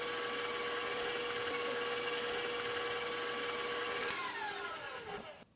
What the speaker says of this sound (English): First, the egg yolk to be whipped with the granulated sugar.